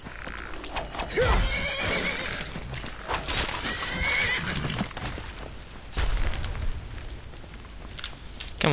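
A horse neighs and its hooves clop in the video game Skyrim, with loud whinnies early on over a rolling stream of hoofbeats and game noise throughout.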